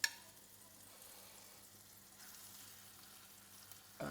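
Chicken saltimbocca pieces sizzle faintly in a frying pan, a soft, steady hiss with a brief clatter at the start and end.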